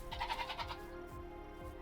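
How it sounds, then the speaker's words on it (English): Goat in the video game The Isle Evrima giving a few short wavering bleats close up at the start, then fading to quiet game ambience. "Oh my god, this goat."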